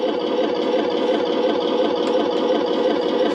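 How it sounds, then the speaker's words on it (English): A toy RC StuG III tank plays its electronic machine gun sound effect, a steady, buzzing rapid rattle from a small speaker, close and continuous with no talk over it. "There's the sound of the machine gun."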